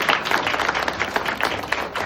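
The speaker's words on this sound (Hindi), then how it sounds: "एक बार जबरदस्त तालियां चौधरी सुरेश कुमार के लिए" An audience at a women's wrestling competition in Maharashtra bursts into dense, continuous applause, many hands clapping together close by for the full two seconds without talk.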